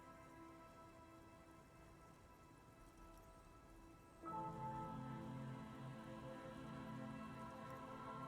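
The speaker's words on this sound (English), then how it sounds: "Only a heavy downpour" Heavy downpour in the video game Disco Elysium, a steady hiss of rain that swells louder partway through, with a low droning background and no voices.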